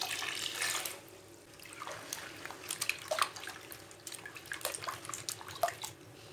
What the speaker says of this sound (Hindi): अब आलूओं को भी धो लेंगे, इसको भी 2-3 बार धोना है।